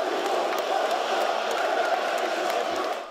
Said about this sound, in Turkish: Tribünlerde yerlerini alan sarı lacivertliler Ali Koç ve Aziz Yıldırım lehine tezahüratlarda bulundu.